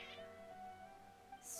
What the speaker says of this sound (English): cats seem pretty worked up.